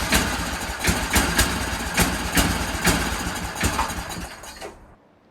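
A cheap secondhand Cub Cadet snowblower engine runs loud and close with a steady idle, punctuated by regular sharp bursts of firing, then cuts out abruptly near the end.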